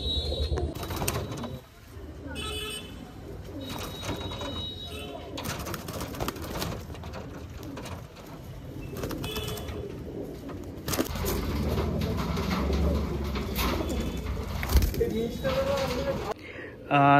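Madrasi pigeons coo softly in a loft in a low, rolling murmur, several birds at once, with someone talking over them and some rustling and clatter nearby.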